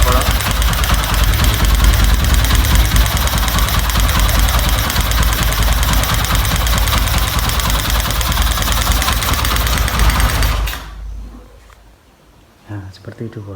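Loud, dense engine roar from a Honda Tiger Revo motorcycle fitted with a PWK carburetor, running continuously up close for about ten seconds before cutting out to near silence.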